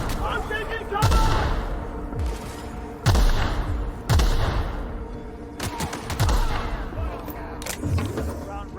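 Gunfire in The Outer Worlds video game: about six loud, close shots with sharp booming decays, spaced roughly a second apart, over a steady background hum.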